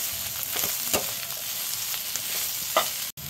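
Spices with a pinch of cumin powder frying in a pan, stirred with a few scraping strokes over a constant sizzle, close and clear, with a brief cut near the end.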